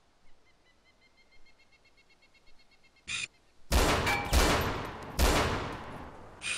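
Gunfire in the ArmA 2 DayZ video game: a single sharp shot, then loud rolling bursts of rapid fire echoing across open terrain, with a faint shot at the end.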